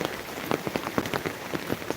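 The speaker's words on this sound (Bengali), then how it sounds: "এত পরিমাণে বৃষ্টি হচ্ছে" Heavy rain falling on a road, a dense close patter of drops hitting the surface with rapid irregular splashes throughout.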